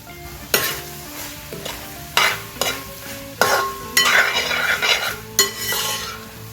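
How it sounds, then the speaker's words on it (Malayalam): Soya chunks with curry leaves stir-fried on high flame, a bright sizzle broken by several sharp clanks and scrapes of a metal spoon against the pan. "ഹൈ ഫ്ലെയിമിൽ ഇട്ടിട്ടാണ് ഇനി നമ്മൾ ഇളക്കി വരട്ടിയെടുക്കുന്നത്."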